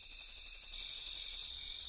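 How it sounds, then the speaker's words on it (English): A cricket chirps in quick regular pulses, clear and close, then the rhythm fades into a steady high trill. "crickets."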